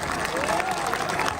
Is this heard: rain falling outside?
no